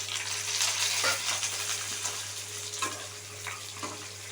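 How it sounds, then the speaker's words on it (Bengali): Boiled potatoes fry with panch phoron and green chili in a pan, giving a soft continuous sizzle with a few stirring scrapes, close and fairly quiet. "আলুটা দিয়ে ভাজা ভাজা করে নেবো"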